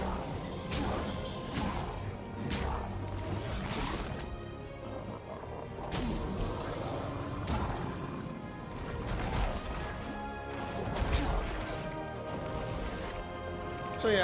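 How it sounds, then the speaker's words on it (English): Heavy crashing slams from a boss driving its tentacles into the ground in the Ori and the Will of the Wisps video game, repeated impacts with swooshes amid dense game music and effects. "hearing him slam the tentacles into the ground"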